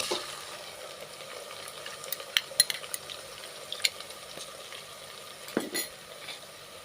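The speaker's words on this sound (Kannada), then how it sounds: "ಶುಂಠಿ ಬೆಳ್ಳುಳ್ಳಿ ಹಸಿ ವಾಸನೆ ಹೋಗೋವರೆಗೂ ಫ್ರೈ ಮಾಡಬೇಕು" Ginger garlic paste frying with browned onions in a pan for egg biryani, a steady soft sizzle broken by a few clinks and scrapes of stirring, with no talk.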